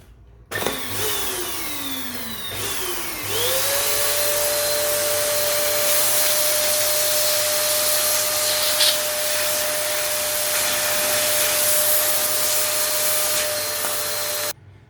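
An air blower drives water off the gear linkage parts of a Royal Enfield Himalayan motorcycle, spinning up in two short bursts before settling into a loud, steady, high-pitched whine with rushing air that holds until it cuts off.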